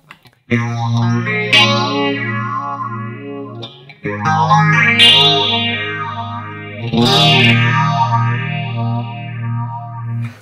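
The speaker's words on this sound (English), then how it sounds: "let's listen to just for the heck of it a flanger sound here" An electric guitar through a Nux Mighty Air amp plays sustained chords soaked in a sweeping flanger, the swirling modulation rising and falling across three long strums, loud and close with no talking.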